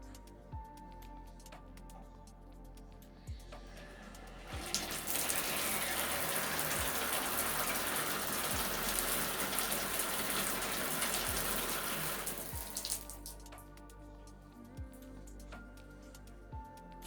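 Shower water gushes in a steady, loud spray for several seconds while a hair mask is rinsed out, starting and stopping cleanly amid quieter bathroom background with faint knocks.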